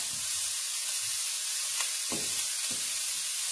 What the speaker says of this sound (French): mes oignons ont fini de griller, donc maintenant on renverse les petites saucisses